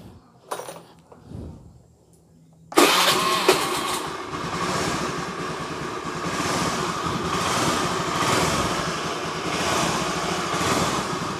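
Motorcycle engine starting on its electric starter after a starter button repair: a few faint clicks and rattles, then the engine catches abruptly and settles into a steady, loud, close idle with no talking.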